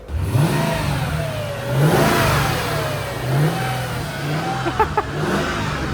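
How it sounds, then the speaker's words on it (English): A Mercedes-AMG car engine revs in repeated rising pulls with a high supercharger whine climbing over the throaty exhaust, loud and close. "But you can hear the supercharger quite a lot."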